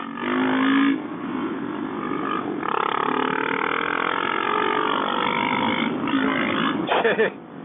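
Dual-sport thumper engine, a Suzuki DR650 or Kawasaki KLR650 with a Mikuni carburetor, revving hard under load, a loud close rising and falling drone with gear shifts and a brief breathy voice over it near the end.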